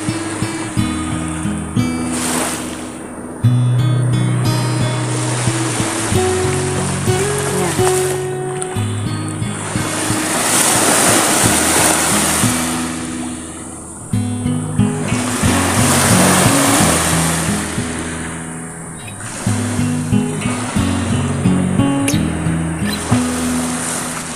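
Ocean waves wash in and break repeatedly on the shore, surging and receding in a steady rhythm, with wind and a voice speaking over the water.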